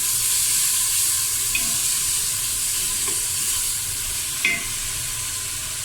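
Ginger garlic paste sautés in hot oil for a haleem korma, a loud, steady sizzle filling the whole stretch, with a few faint clicks of a utensil against the pan.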